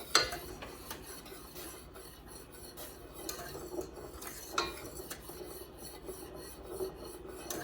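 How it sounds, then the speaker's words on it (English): A spoon scrapes and rasps around a pot of homemade grape jelly mixture as it is stirred, in a steady stream of close, rubbing strokes with a few sharper clinks against the pot. "And we want to stir it and make sure it's completely dissolved."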